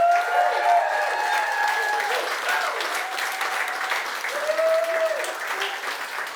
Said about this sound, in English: So can we give everybody watching at home a big round of applause?